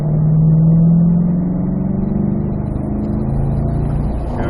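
A C8 Corvette on a racetrack accelerates hard, its mid-pitched engine note loud and steady, rising slightly in pitch as it pulls out of a corner. No one speaks.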